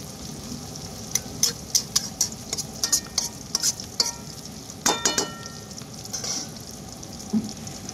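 Carrots fry in a pan with a steady sizzle, broken by repeated scraping and clinking as a utensil stirs them. Close by, with no talking.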